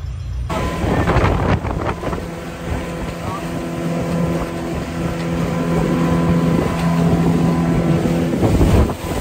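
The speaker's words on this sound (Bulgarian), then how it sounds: "Добрата новина е, че успяха да ни дадат лодка." A rented motorboat cruises on Lake Garda in Italy, its engine a steady loud drone with heavy wind buffeting the microphone throughout, and people talking over the noise.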